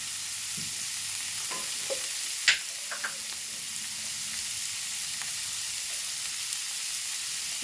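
Amaranth stems and prawns stir-fry with turmeric in a pan, a steady close sizzle broken by a few soft scrapes and clicks of a utensil.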